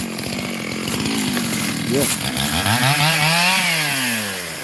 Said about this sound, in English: when the chainsaw work you want to be a little bit from it so you can do him thing